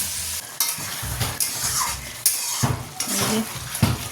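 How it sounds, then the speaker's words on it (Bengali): Cooked rice being stir-fried with carrots, beans and peas in a kadai, with a steady sizzle broken by repeated scraping and clanking of a spatula against the pan, close and loud, no talking. "ওই গাজর বিনস কড়াইশুঁটি এসব দিয়ে ভাতটাকে একটু ভাজা ভাজা করবো।"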